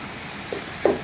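Onions and tomatoes frying in butter in a pan, a soft continuous sizzle with a couple of brief scraping stirs near the end, close and fairly quiet, without talk.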